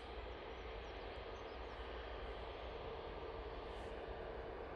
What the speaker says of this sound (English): Well, Ryanair's in close proximity because I can hear it.